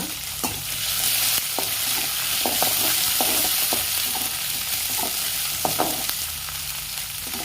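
Onions sauté in a pan for a mint chutney, a constant frying hiss under frequent utensil scrapes and taps as they are stirred, close and steady with no speech.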